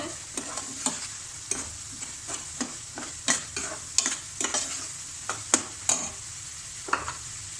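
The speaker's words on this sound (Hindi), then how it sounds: "मटर को बस मैं 2 मिनट कुक करूंगी" Green peas frying in a pan for aloo gobi matar, with a soft continuous sizzle broken by regular sharp scrapes and taps of a spoon stirring, close and clear with no talk.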